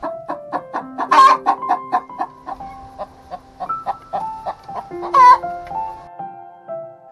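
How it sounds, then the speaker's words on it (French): Backyard hens in a coop cackling loudly after laying eggs, a rapid series of rhythmic clucks building into two sharp, drawn-out squawks, close and clear, with no talking. "une fois la ponte effectuée, comme d'habitude, Noirotte fait ça en chantant"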